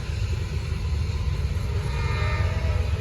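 A Norfolk Southern freight train pulled by two locomotives rolls past at close range, giving a steady, loud low rumble with a constant wash of rail noise and no break.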